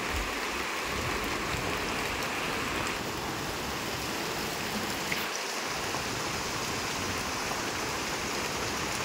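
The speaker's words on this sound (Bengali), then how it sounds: "সারাটা দিন ধরে বৃষ্টি পড়তেছে এইভাবে।" Steady daytime rain falling on trees and green grass, a dense continuous hiss of drops with a faint low rumble, even and unbroken throughout with no voices.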